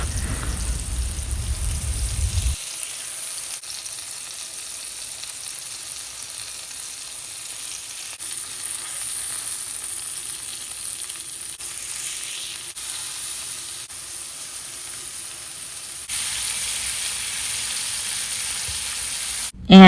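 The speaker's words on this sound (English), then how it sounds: "So I drizzle a pan with some olive oil and just placing the pork chops in." Pork chops frying in olive oil in a pan give a steady, soft hiss and sizzle throughout, with a brief louder burst at the start and a slight rise near the end.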